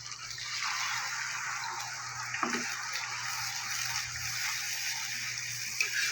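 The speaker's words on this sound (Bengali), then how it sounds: "এবার আমি দিয়ে দেবো জল, মশলার জলটা দিয়ে দেবো" Water is poured into fried, oil-separated masala for a Bengali-style pomfret curry, giving a steady, moderately quiet rushing splash that runs throughout, with a brief sharper disturbance midway.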